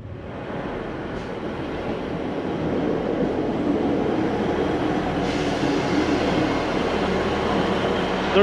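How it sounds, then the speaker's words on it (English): A Scotrail train pulls into a station on the Inverness to Kyle of Lochalsh line, its rumbling wheels and engine swelling steadily louder as it draws near, with faint wheel squeal and no talking. "The good news, my train's here."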